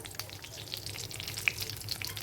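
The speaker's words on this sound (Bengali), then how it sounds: "এগুলো দিয়ে এবার আমি এগুলো ভালো করে ভেজে নেবো লাল করে ভেজে নেবো" Panch phoron, bay leaf and dried red chillies frying in hot oil, a soft close crackle with scattered sharp pops and spits, without any talking.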